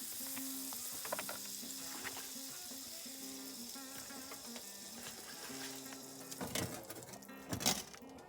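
Butter sizzles steadily in a pan on a hot wood stove inside a canvas hot tent, a continuous close crackle with brief louder spits and pops near the end.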